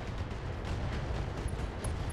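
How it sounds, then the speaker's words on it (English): Ammo explosions in the BattleTech mech combat video game, a dense, continuous rumbling roar of blasts and crackling detonations at steady loudness. "Those ammo explosions, though."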